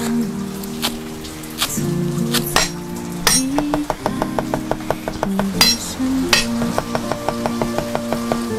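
Garlic, sand ginger, chili, soy sauce and peanut oil being stirred into a dipping sauce: repeated bright clinks of a spoon against a bowl in quick rhythmic runs, close and fairly loud, over background music.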